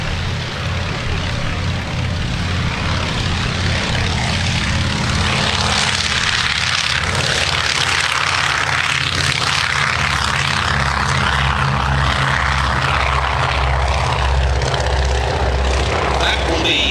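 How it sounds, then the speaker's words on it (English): Avro Anson Mk.I propeller aircraft flying at the Shuttleworth Festival of Flight, its piston engines giving a loud, steady, rumbling drone that holds throughout with no break. "it's the world's only airworthy Avro Anson Mk.I."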